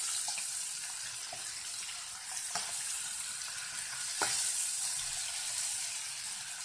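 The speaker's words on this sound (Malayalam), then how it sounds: "ഇനി ഇത് നമുക്ക് തിരിച്ച് മറിച്ച് വിട്ട് വറുത്ത് പോരാ." Prawns fry in shallow oil with a steady, close crackling sizzle, while a few sharper taps and scrapes mark the pieces being turned over.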